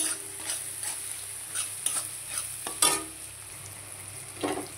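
Tomato, onion, turmeric, chilli powder and salt sauté in a pan for Bengali paneer posto, giving a low, steady sizzle with intermittent scraping stirs and no talk.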